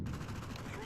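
Sustained rattling gunfire in a video game keeps up a dense burst of shots for under a second, loud and continuous with no break.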